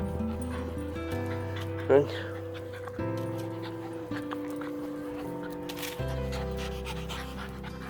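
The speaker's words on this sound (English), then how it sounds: "Crazy dogs, hey?" Dogs pant and give a few short yips and whimpers nearby while a person talks over them, with a brief louder bark standing out partway through.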